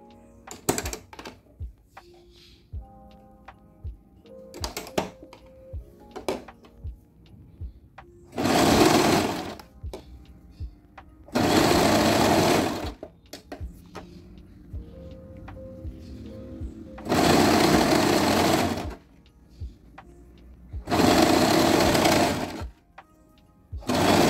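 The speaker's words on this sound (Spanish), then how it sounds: "Costura el costado un centímetro antes y comienzo a elasticar." Sewing machine stitching elastic onto a child's underpants, four loud sustained whirring runs of several seconds each, separated by quieter clicks and fabric handling.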